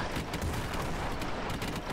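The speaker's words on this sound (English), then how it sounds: "It has aerial bombardment. It has deck cannons." Deck cannons on an airship in the Airships: Conquer the Skies video game fire in a dense, rapid barrage, the booming shots blurring together into steady, loud battle noise.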